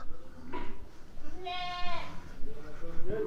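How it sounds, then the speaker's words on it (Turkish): Sheep and lambs on a farm give a short bleat lasting about half a second, close by, amid background noise and someone speaking. "burada büyük kuzulu koyunlarımız var"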